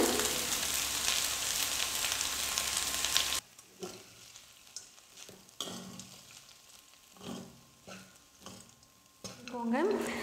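Leftover rice with tamarind cooks in a pan, starting with a loud steady sizzle that suddenly cuts to quieter scattered scraping and stirring taps against the pan.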